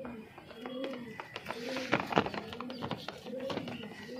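A Kalthara pigeon coos softly in repeated low murmurs close by, under steady talking from a man.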